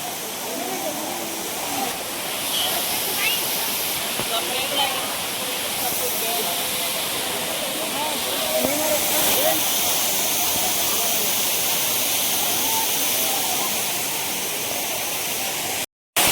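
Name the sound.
Ghatarani waterfall flowing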